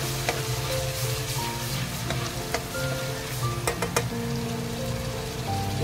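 Ginger garlic paste fries in hot oil with a steady, close sizzle and crackle, broken by small pops and the occasional scrape of stirring, and no one speaks.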